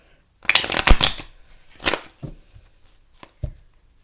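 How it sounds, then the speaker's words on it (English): Tarot cards shuffled by hand in a couple of quick riffling bursts, close and crisp, followed by a few soft taps and slaps as the deck settles, with quiet pauses between. "I'm going to go ahead and shuffle your cards"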